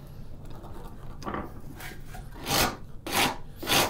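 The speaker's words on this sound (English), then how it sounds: "My heavy duty cabinet maker's file, rasp." A heavy duty cabinet maker's rasp files a straight razor scale in bursts, starting with faint scraping and ending in three loud, rough strokes spaced about half a second apart near the end.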